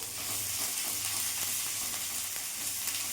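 Grated ginger and chopped green chillies frying in oil in a pan over a low gas flame, a steady soft sizzle with faint stirring scrapes running continuously throughout.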